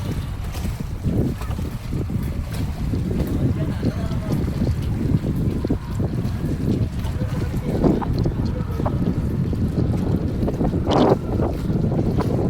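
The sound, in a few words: wind blowing at sea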